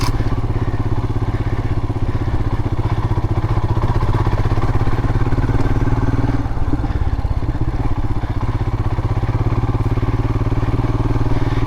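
A Royal Enfield Himalayan motorcycle rides off-road through bushes and past rocks, its single engine chugging loud and close throughout in a steady pulsing drone, with thumps and rattles from the rough ground.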